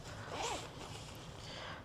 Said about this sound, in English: But oh, and it zips.